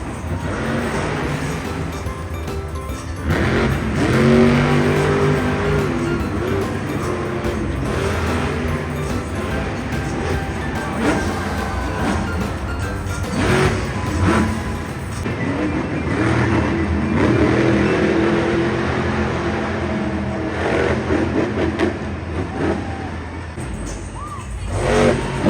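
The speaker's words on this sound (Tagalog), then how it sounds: "Kusog pod ni moambak ning iro na monster truck." At an outdoor show, a monster truck's engine roars and revs in loud surges with drops in between, over a background of crowd noise.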